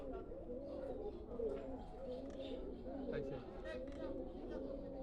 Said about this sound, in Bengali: কবুতর দেখা ওই উপরে উঠতেছে।